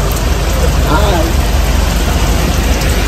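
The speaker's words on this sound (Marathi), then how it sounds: "पाऊस पण बघा जोरात आलाय." Heavy rain pouring down at Mahalaxmi during a Gujarat trip, a loud, dense, unbroken roar of water close by, with faint voices underneath.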